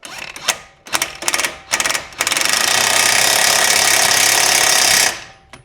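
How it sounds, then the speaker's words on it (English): A DeWalt DCF891 impact wrench rattles in several short bursts, then one long sustained hammering run while tightening coil-over bolts on a 2003–2008 Toyota Corolla, Matrix or Pontiac Vibe, loud and close. "this DCF 891 DeWalt impact gun usually does a pretty good job"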